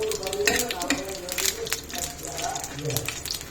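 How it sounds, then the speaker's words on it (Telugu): Dried red chillies frying in oil for cabbage pachadi, with coriander seeds, fenugreek and mustard seeds in the pan, crackling and sizzling steadily at close range beneath talk and the occasional stir. "కొద్దిగా ఎండుమిర్చి వేగింది"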